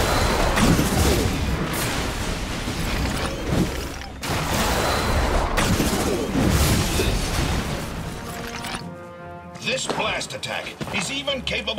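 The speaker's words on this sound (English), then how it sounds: "Using the power of the Sunstones, Knack can also blast distant targets with a barrage of relics" Knack, in the Knack video game on PS4, unleashes a barrage of relics at distant targets, a rapid string of booming, crashing impacts and blasts that stops abruptly, then resumes with scattered hits, all under steady narration.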